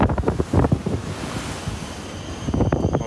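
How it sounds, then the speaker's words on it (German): Strong wind buffets a microphone at an unprotected harbour at Costa Maya, Mexico, as a steady roar with gusty bursts at the start and the end, and surf washing underneath. "Es ist so windig"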